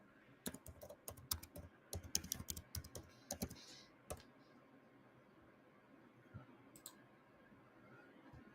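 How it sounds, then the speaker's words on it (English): Quiet clatter of a computer keyboard being typed on, with bursts of rapid clicky keystrokes over the first four seconds, then a couple of isolated taps against a faint room hum. "I type that in, is that going to work?"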